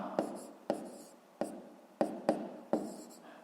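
Pen strokes scratch across paper while a fifth-grade math exercise is written out, six sharp separate taps and scrapes at an uneven rhythm, close and clear with no talk.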